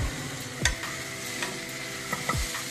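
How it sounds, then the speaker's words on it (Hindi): A spoon stirs lauki and chana dal sabzi in a pan, with a few scraping strokes over a steady low sizzle of frying. "बीच बीच में चलाते रहेंगे।"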